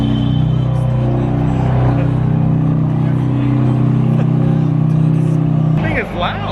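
A BMW M3 engine running loud and close, a deep steady idling drone that holds throughout and drops off near the end, with a voice heard briefly.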